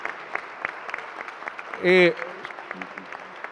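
Applause at an Italian national conference on Giuseppe Corazzin and Christian trade unionism, a faint, steady patter of clapping from the audience, briefly interrupted by a single short spoken syllable.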